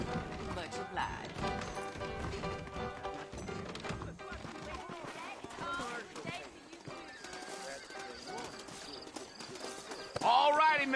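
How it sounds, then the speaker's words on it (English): Horses clip-clop and whinny in the western video game Red Dead Redemption, steady hoofbeats running under a dense bed of game music, with a brief louder burst near the end. "I got the horses saddled up and ready out front."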